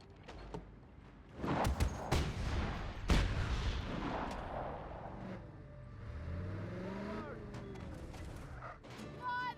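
A vehicle-mounted gun in Just Cause 3 opens fire with heavy booming shots early on, then an engine revs and whines with sweeping pitch while a voice talks over the action.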